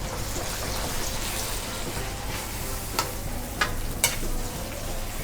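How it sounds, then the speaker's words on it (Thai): Nam prik ong chili paste is stir-fried in a pan, making a soft, continuous sizzle with scraping stir strokes. A few sharper clinks and pops stand out near the end, fairly close and moderately quiet. "เอาลงผัดเลยค่ะ"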